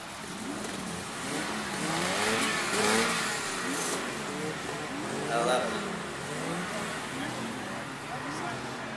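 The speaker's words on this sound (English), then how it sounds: "Start your engines." Several car engines rev together at a car show with a 1934 Buick 56S Sport Coupe among them, a rolling chorus of rising and falling revs under crowd noise and voices.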